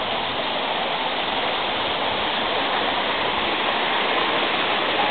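Water rushes steadily at an old watermill in Agia Theodora, a continuous dense roar of flowing water, close and loud throughout with no voices.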